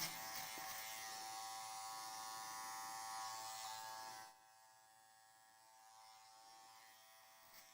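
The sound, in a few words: electric hair clipper buzzing around ear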